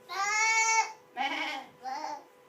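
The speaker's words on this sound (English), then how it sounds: "There are wild grapes and many goats. Hundreds of goats. Goats everywhere." Goats bleat on a fertile, wooded island: three close, wavering calls, the first long and strained, then two shorter cries after brief pauses, with no other sound around them.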